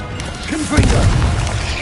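A Confringo blasting spell detonates in a Harry Potter video game: a loud, sustained booming explosion erupts partway through and rumbles on heavily to the end, with a brief voice-like sweep just before the blast.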